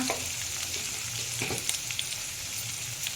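Mixed vegetables with turmeric frying in a pan for a vegetable curry, a steady close sizzle and crackle running throughout with a few soft stirring knocks and no talk.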